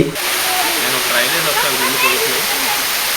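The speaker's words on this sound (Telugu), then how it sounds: "కుడివైపున ఎత్తైన కొండ మీద నుంచి జలపాతం వేగంగా పడుతూ మనసును ఉరకలు వేయిస్తుంది" A waterfall pours swiftly from a high hill at Siddaramappa Kolanu near Srisailam, a loud, constant rushing roar. A voice speaks over the water the whole time.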